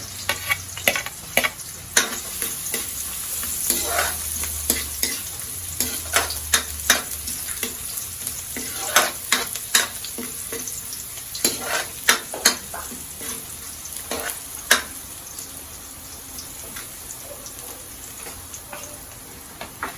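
Garlic frying in a pan for pork bopis, a steady sizzle under frequent sharp clinks and scrapes of a spatula stirring against the pan, close and fairly loud.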